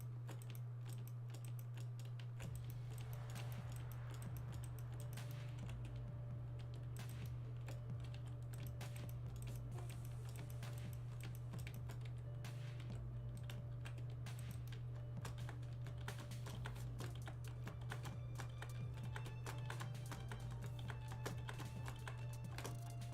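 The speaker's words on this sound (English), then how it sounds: "I'm freaking pounding on my keyboard trying to go quick." Fast, dense typing patters on a loud computer keyboard during a game-building session, rapid irregular key clicks running continuously over a steady low electrical hum.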